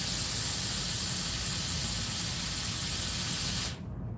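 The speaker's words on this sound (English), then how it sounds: "Blow off some steam here." A steam iron sends out a loud, steady hiss of steam for nearly four seconds before it cuts off abruptly, leaving a quieter room.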